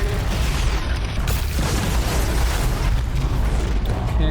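A fully charged shot strikes a machine in Horizon Zero Dawn, a loud, dense booming impact with mechanical clatter and crunching debris sustained throughout, no voices over it.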